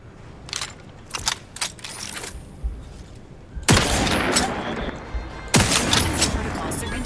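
Gunfire in The Outer Worlds 2: a few sharp shots early on, then two loud, heavy sniper rifle blasts with long ringing tails, close and alone.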